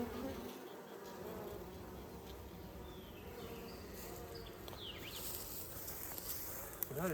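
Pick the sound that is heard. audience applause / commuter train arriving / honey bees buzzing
honey bees buzzing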